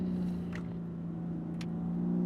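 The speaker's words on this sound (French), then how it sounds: "On lâche le frein à la corde et on accélère" A BMW M car engine hums steadily with a low, droning tone as it accelerates out of a corner on a driving course, building slightly toward the end, heard alone with no voices.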